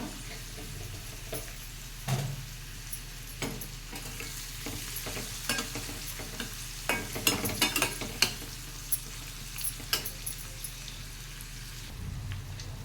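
Food fries in a pan with turmeric just added, a steady soft sizzle under scattered light crackles and pops, with a louder burst near the end.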